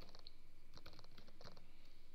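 Short bursts of computer keyboard typing, entering a search into a browser search bar on Windows, with soft, close key clicks in quick clusters and brief pauses, quiet overall.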